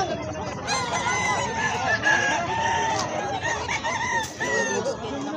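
Roosters crow repeatedly at a busy pet market, their strained calls rising over constant crowd murmur and other clucking fowl, fairly loud and close.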